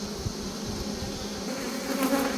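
Honey bees hum in a dense continuous drone at an open beehive infested with hive beetles, many insects buzzing close and steady with slight swells in pitch as individuals pass near.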